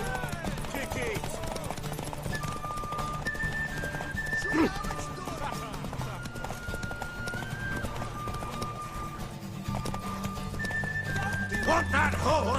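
Horse galloping in The Witcher 3 race, a steady clip-clop rhythm with occasional whinnies under game music and voices throughout.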